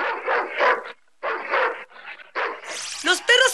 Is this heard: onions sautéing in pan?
no